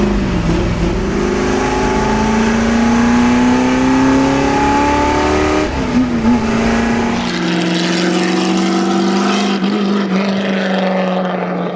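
A 1966 Ford GT40 Mark II race car with a 427 engine revs steadily, its loud, close exhaust note holding high and rising slowly before dropping off toward the end, with no voices.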